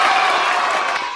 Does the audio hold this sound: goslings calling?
no